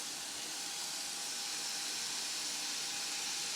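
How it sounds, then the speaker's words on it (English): Jerk chicken pieces sizzle in a hot skillet, giving a steady, broad hiss that stays constant and fairly soft, with no talking over it. "Yeah, got a little sizzle."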